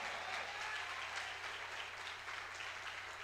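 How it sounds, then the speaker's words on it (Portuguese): A church congregation applauds loudly and steadily, a dense, continuous clatter of many hands clapping together with no break and no voices standing out. "Agora aplauda forte."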